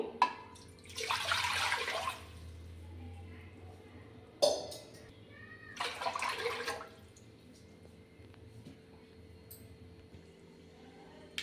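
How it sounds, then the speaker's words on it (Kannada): Roughly two liters of water poured into a pressure cooker on a gas stove for a lentil sambar, in two short splashing pours, each followed by a metallic clink, with quiet kitchen background between them. "ಇವಾಗ ಇದಕ್ಕೆ ಒಂದು 2 ಲೀಟ್ರಷ್ಟು ನೀರು ತೊಗೊತೀನಿ."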